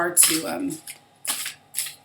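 Crisp papery riffling of a large tarot deck being shuffled, in a few short bursts with brief pauses between, close to the microphone.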